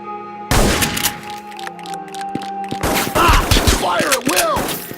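Gunfire from the Reservoir Dogs video game: loud bursts of shots and sharp impacts crack out over a steady background tone, with a short lull before a denser volley, and a voice talks briefly partway through.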